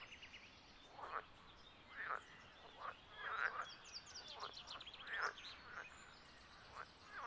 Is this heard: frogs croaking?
yes